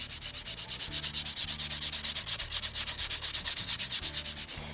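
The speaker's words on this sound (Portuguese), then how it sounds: "Então, vamos lixar um pouquinho. Lixa em cada um dos lados." Sandpaper rubs back and forth across wood for a small herb planter, giving quick, even strokes at a steady rhythm close up; no talking.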